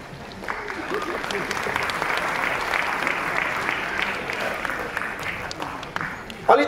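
An audience claps steadily at the Kamana Film Awards ceremony, a dense sustained round of applause from a crowd in a hall that swells slightly and then tapers.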